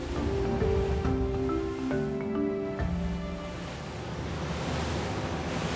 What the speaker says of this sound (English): even if the bow is up against the waves right now